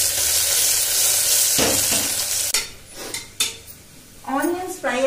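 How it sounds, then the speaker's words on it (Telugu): Chopped onions and green chillies hit hot oil in a pot with a loud rushing sizzle, followed by metal utensil clanks and scraping stirs against the pot as the frying settles down. "ఇప్పుడు అందులో కట్ చేసి పెట్టుకున్న ఆనియన్ ముక్కలు వేసుకోవాలి"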